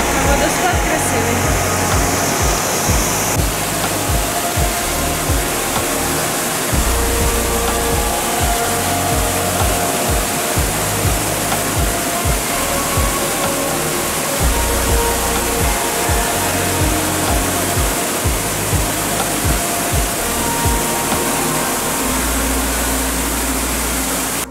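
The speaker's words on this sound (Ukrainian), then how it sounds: "Водоспад гарний, як і багато років тому." Steady, loud rush of the Shypit waterfall in the Carpathians filling the whole scene, with a constant broadband roar and occasional low rumbles beneath it.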